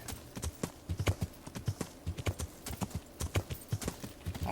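Rhythmic horse hoofbeats clip-clop at a steady trotting pace in the video game Kingdom Come: Deliverance, moderately close, with faint ambient background and no talking.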